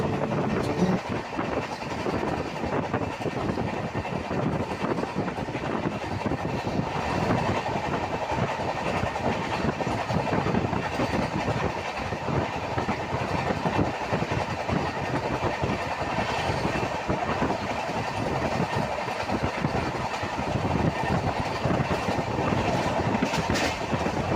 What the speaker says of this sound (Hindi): अब हमारी ट्रेन दालकोला तक ऐसे ही नॉन स्टॉप गति से चलने वाली है